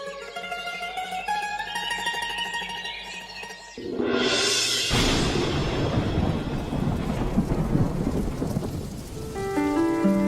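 Heavy rain pours down steadily with a loud crack and rumble of thunder near the start, the downpour continuing dense and close throughout during a rainy-day scene in a Bengali cartoon story.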